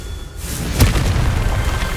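In Hogwarts Legacy, a Confringo spell detonates with a loud, close booming blast and a sharp burst at its peak, followed by a rumbling roar that carries through the rest of the moment.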